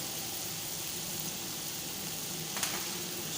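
Chicken frying in a pan with coriander powder and garam masala as it is stirred, a steady close sizzle with faint scraping and one brief clink partway through.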